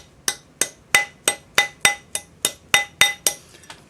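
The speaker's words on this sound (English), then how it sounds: "So back on your ring mandrel to make it round. Just hit in the middle of your" Eleven sharp metallic strikes in a steady rhythm as a hammer taps a metal ring seated on a steel ring mandrel, each hit bright and ringing with a short decay, close and alone.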